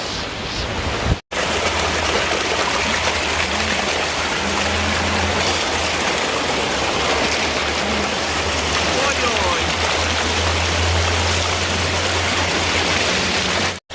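The stream and waterfall at Little Dunn's River in Ocho Rios rush loudly and continuously, a dense close roar of falling water, with faint voices barely audible beneath it.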